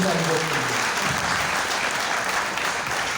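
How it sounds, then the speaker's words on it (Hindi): An audience applauds steadily and densely for the country at a patriotic poetry recital, a broad sustained wash of clapping with a brief voice at the start. "एक बार तालियां बजा दीजिएगा हमारी देश के लिए"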